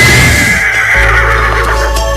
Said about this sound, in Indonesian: Kuda Sembrani itu akan menghantarkanmu pulang ke Malwapati.